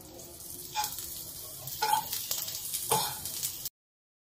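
Ghee sizzles in a pan while upma is stirred, a steady close fry hiss with a few scraping stir strokes, then it cuts off abruptly.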